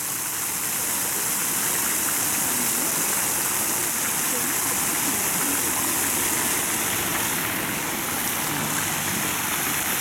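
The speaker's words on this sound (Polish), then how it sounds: "Pokaz fontanny." Fountain show water jets spraying in a moving arc in Gdańsk, a steady, broad rushing hiss of falling water filling the scene at close range, continuous and even throughout, with faint voices in the background.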